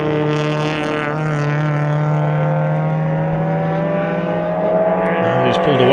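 Honda racing cars in a Clubmans circuit race at Phakisa hold a steady, loud engine drone that swells and rises in pitch near the end.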